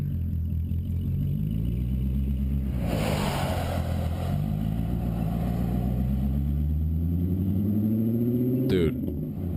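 A car with a straight-pipe exhaust, its engine compared to a VR, rumbles loud and close, revving up in rising sweeps and dropping back repeatedly, with a sharp burst near the end.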